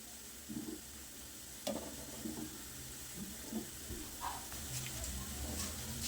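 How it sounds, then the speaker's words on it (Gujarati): Dal vada fry in hot oil in a pan, giving a soft, continuous sizzle with occasional light clinks and stirring scrapes at low volume. "આપણા દાળવડા અંદર સુધી સરસ ફ્રાય થઈ જાય."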